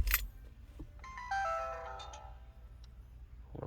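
Shutdown chime from a 2014 Chevy Cruze as the car is switched off, a short bright electronic tone sequence after a thump, heard close inside the cabin, no talk.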